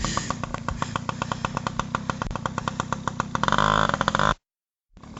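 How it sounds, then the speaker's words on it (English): A dirt bike motorcycle ridden through mud runs with a steady, rapid engine pulse, revving louder near the end before cutting off abruptly into silence. "Isaiah, riding the motorbike through the mud."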